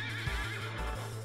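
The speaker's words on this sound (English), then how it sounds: "That's Odin on an eight-legged horse named Sleipnir." Sleipnir, Odin's eight-legged horse in Final Fantasy VIII, gives a loud whinnying neigh mixed with rhythmic hoof clip-clops, alone and close for a brief moment.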